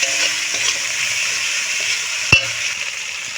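Tilapia fish fries in a pan with spices and turmeric for a mustard tilapia dish, giving an even, close sizzle broken by one sharp clack of a spatula or spoon partway through.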